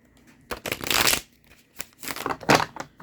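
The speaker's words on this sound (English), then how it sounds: "Next, we're going to do our water signs. So, we are going to shuffle." Tarot cards are shuffled in several quick riffling bursts, close and crisp, with short pauses between each shuffle.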